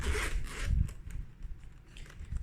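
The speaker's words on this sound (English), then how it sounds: "So let's unzip it." Zipper being pulled open on a bulky carrying case for a Logitech MX Mechanical keyboard, a close, quick series of rasping zip strokes over a few seconds.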